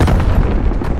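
A frag grenade detonates in Call of Duty, a loud, close, low booming blast that fills the whole second with dense rumble.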